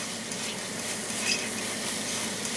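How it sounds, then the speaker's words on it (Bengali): Rice with spices is stirred and fried in a pan for chicken tahari, giving a steady, even sizzle with soft scraping throughout and no talking. "এখন কন্টিনিউ আমি এভাবে নাড়াচাড়া করতে থাকবো যতক্ষণ না মশলার সাথে চালটা সুন্দরভাবে ভাজা ভাজা হয়ে আসবে"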